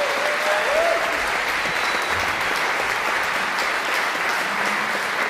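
Sustained audience applause for cellist Sheku Kanneh-Mason after a Melbourne Symphony Orchestra masterclass evening, a dense steady wash of clapping that holds at even loudness throughout.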